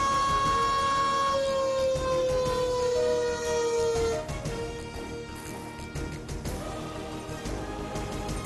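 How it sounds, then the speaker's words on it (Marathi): A public alert siren installed to warn citizens in Pakhtun wails loudly with a steady, slowly rising tone, then gives way to a rougher, fluctuating wash of noise toward the end. "पख्तूनमध्ये नागरिकांना अलर्ट करण्यासाठी सायरन बसवले"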